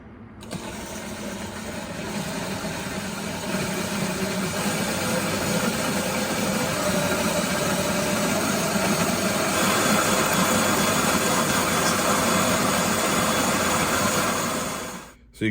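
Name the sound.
electric drill driving a grain mill grinder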